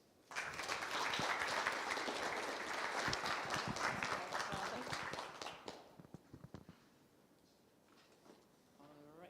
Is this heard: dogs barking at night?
no